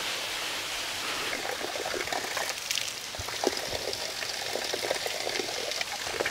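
A branch of a large waterfall near Cherrapunji, Meghalaya, pours into a pool below with a steady close splashing rush, broad and continuous, with scattered droplet spatters on top.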